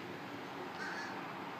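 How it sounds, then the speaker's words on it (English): Crows caw outdoors, a short, faint, harsh call set against a steady hiss of background noise. "See the crows, my friends?"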